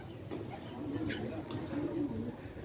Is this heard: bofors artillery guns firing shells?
no